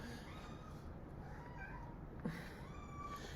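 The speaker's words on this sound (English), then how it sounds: "the cat is going crazy right now" Quiet, drawn-out meows from a female cat in heat sit over a steady noisy background, with a short louder cry partway through.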